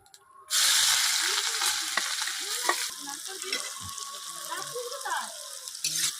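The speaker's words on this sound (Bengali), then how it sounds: "পেঁয়াজগুলো একটু লাল লাল করে ভেজে নেবো" Chopped onions with whole cumin seeds dropped into hot oil in a pan, a sudden loud sizzle that settles into a steady close frying hiss with occasional stirring scrapes and clinks.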